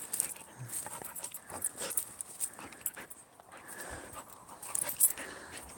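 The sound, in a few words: dog panting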